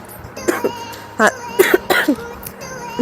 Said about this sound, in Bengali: বুঝতেই পারছো হালকা ঠান্ডা লেগেছে কাশি হচ্ছে